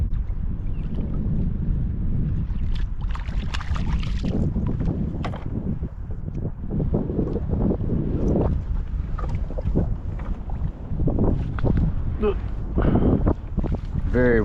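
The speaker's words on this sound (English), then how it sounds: "Very windy day." Strong wind gusts buffet the microphone on a very windy day out on the water while fishing from a boat, with rough, uneven blustering and scattered knocks and handling noises throughout.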